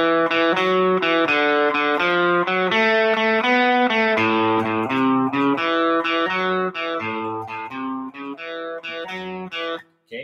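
An electric guitar with a distorted tone plays the first four bars of a beginner blues rhythm riff in A, a steady chugging pattern of repeated notes, close and loud, with no talking.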